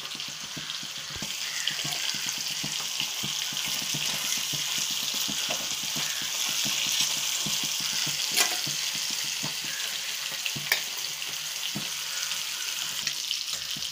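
Trevally fish roasting in a pan, with a steady close sizzle and frequent small crackles and pops from the hot oil throughout, with a few sharper spatters standing out.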